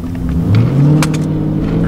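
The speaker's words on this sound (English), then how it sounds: "another charger here. He's got performance exhaust too." A Dodge Charger with performance exhaust revs hard with a deep, throaty exhaust rumble, rising briefly then settling into a steady low growl.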